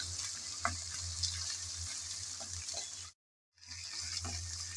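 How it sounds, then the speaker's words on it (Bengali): Soft steady sizzling of ginger-garlic paste frying in a pan, with faint stirring scrapes and a brief silent gap partway through. "নেড়ে চেড়ে ভালোভাবে একটু ভেজে নেব, যাতে আদা রসুনের কাঁচা গন্ধটা চলে যায়।"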